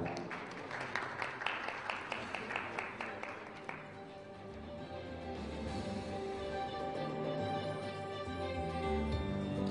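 An audience at an awards ceremony applauds with rapid, dense clapping that fades after a few seconds, giving way to a swelling musical backdrop.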